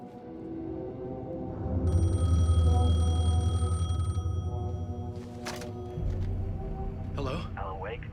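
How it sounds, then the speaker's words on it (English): A payphone rings in the video game Alan Wake 2, a steady repeating electronic ring sitting under a low rumbling ambience, cut off partway with a few faint clicks after it. "The payphone was ringing."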